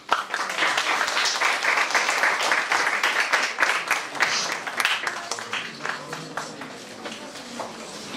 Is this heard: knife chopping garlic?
no